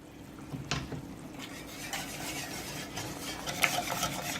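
Polenta is stirred vigorously in a pot, with a utensil scraping and clinking against the metal and a soft thick bubbling and sizzle underneath. The sound is quiet and continuous, with a few sharper knocks.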